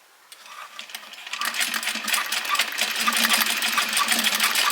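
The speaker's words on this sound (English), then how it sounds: "I'm going to run it through the sewing machine and run it out and back under there." A sewing machine stitches down a fabric scrunchie, its motor running in a steady, close, buzzing whir that builds in loudness and keeps going throughout, with no one talking.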